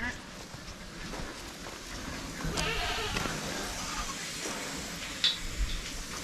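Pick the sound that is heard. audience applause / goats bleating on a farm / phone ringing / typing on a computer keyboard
goats bleating on a farm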